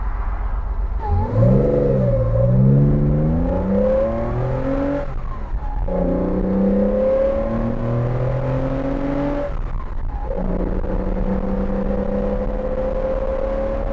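A Porsche 914-6 flat-six fed by Weber carburetors revs up and falls back repeatedly, rising and falling engine tones in several distinct blips over a loud idle, with no talk.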